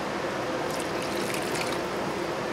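About a quart of water is poured into a pot of crab bisque, giving a steady, close splashing fill with a faint trickle on top, unbroken by talk.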